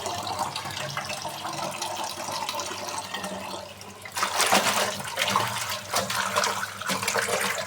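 Tap water runs and splashes while leafy greens are rinsed in a pot, a steady close stream that grows louder and more splashy midway through.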